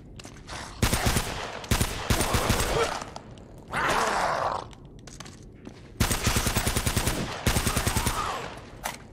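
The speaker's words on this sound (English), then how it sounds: "this Tommy gun is no joke" Tommy gun fire in Uncharted comes in loud rapid bursts, several sustained rattling volleys separated by short pauses, with a rushing whoosh between them.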